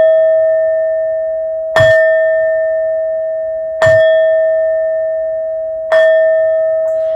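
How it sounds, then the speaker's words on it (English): A bell is struck three times about two seconds apart for a tarot reading. Each strike rings out clear and bright, then decays slowly into a sustained hum before the next one. "These next 4 bell sounds are to align us and to bless this reading."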